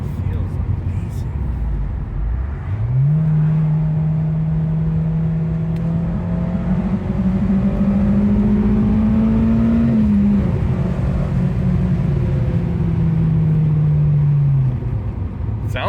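A stock Acura RSX Type-S engine revs steadily from inside the car, the tone climbing and holding for several seconds before easing off, with occupants talking.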